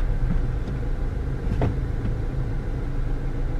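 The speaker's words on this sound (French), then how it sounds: "Mais broute ma voiture." A car engine runs rough and judders while warming up in the cold, giving a low, steady rumble with uneven pulsing and a brief sharper whine near the middle, heard close and moderately loud.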